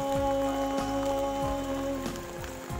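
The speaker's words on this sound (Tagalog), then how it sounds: "Ay, ulan pa. Ulan." Steady rain patters down in a forest across the whole stretch, with a few low thuds and a faint tonal hum running underneath.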